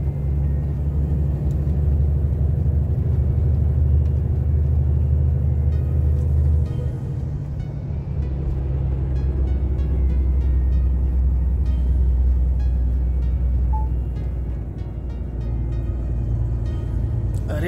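Loaded truck rolling slowly along a road in France, a steady, loud low engine rumble and drone running throughout with only slight shifts in tone.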